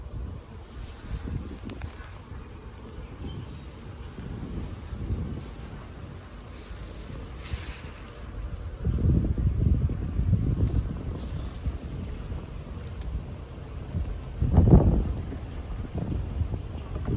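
Wind gusts outdoors during a beehive inspection batter the microphone with low, rumbling buffets that swell and fade unevenly, with stronger bursts midway and a sharp gust near the end.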